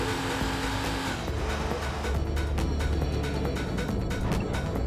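A Porsche racing car in Need for Speed: Porsche 2000 roars loudly and steadily, its engine sustained at high revs with squealing tires layered over it, no voices present.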